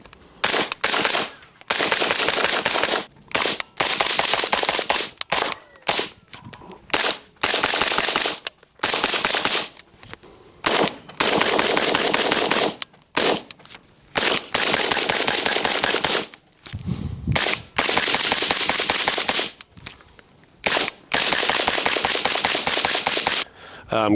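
Suppressed rifle gunshots heard from the shooter's position, fired through a series of different suppressors in turn, with several models compared; loud, sharp reports come in quick strings and singles with short gaps between them, and no one speaks.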